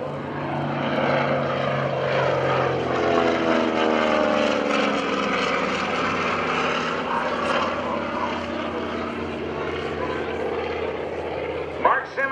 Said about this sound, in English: Flying the airplane today